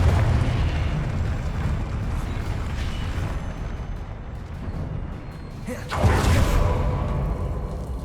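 A Confringo spell explosion in the Hogwarts Legacy video game, heard as a sustained rumbling, fiery roar with a sharp burst partway through, loud and close.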